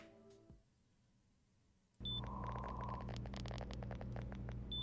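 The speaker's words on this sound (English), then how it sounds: "I heard the beeping!" Electronic beeping from a hospital scene in the video game Persona 4 Golden, with repeated short tones over a steady loud background hum after a quiet start.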